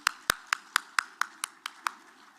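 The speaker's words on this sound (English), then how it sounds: "She deserves a round of applause." Applause for a performer at the ADEA Triennale 2025: about nine crisp, evenly spaced claps at a steady pace, sounding more like one or a few people than a full crowd, with no talking.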